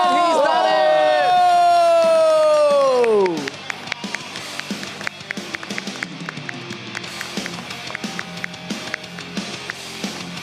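Crowd cheering for finishers of the Brave Heart firefighter challenge at Singapore Expo, a loud whistle-like blast at first, then scattered shouts, claps and bustling noise from a lively indoor crowd.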